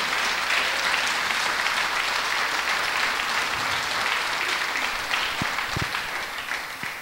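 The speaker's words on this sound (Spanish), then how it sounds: "Dale un fuerte aplauso al Señor." A church congregation claps loudly and steadily in praise for about seven seconds, a dense, even wash of many hands that fades slightly toward the end.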